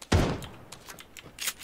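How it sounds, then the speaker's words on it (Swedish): Gunfire rings out in a shooter video game where a long-range shotgun is in use: one loud sharp blast, then several fainter rapid reports trailing after it. "Jag missar alla skott."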